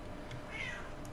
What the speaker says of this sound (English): gosh, my cat is being annoying.